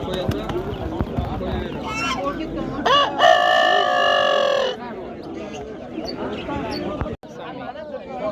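Roosters crow at a busy poultry market in Gijduvon, Uzbekistan: one long, loud crow rises in the middle, with shorter calls and clucking around it, all under steady chatter and nearby voices.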